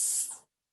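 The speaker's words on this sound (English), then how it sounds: "here I have a smoke detector tester" Aerosol smoke detector tester sprayed once, a short loud hissing burst lasting under half a second before cutting off to silence.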